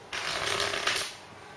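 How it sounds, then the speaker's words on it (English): A deck of playing cards is shuffled during a card trick: one quick riffle of about a second, close and fairly soft, with no talk over it. "But I'm going to give it a shuffle."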